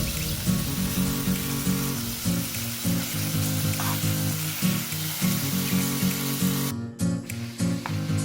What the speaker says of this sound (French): Je vais sauter le tout dans une petite cuillère à soupe d'huile